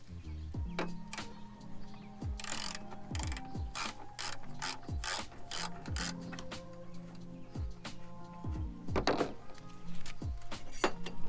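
Ratchet wrench cranking in quick bursts of clicking pawl strokes, loosening a bolt on a pickup tailgate during a DeeZee tailgate assist install, with metallic clunks of the socket between runs, close and steady.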